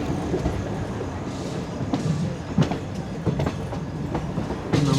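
The 22652 Chennai Superfast train runs on rails, heard from inside a First AC coach as a steady low rumble with rhythmic clickety-clack wheel beats.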